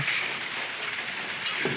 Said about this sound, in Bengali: আবারও বৃষ্টির নামতেছে দেখুন